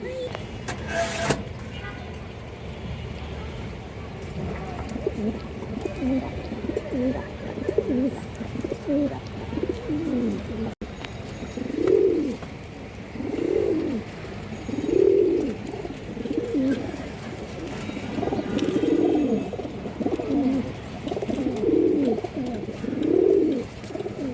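Several pigeons, a mix of colored and tumbler breeds offered for sale, coo in repeated low rolling phrases near the microphone, growing steadier in the second half over a background of talk and ambient noise.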